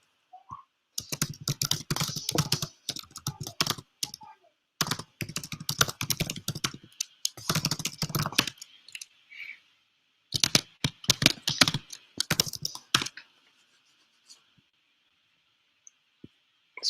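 Git commands are typed on a computer keyboard in close, crisp bursts of rapid key clicks separated by short pauses, with a faint steady hum behind and sparse final taps near the end.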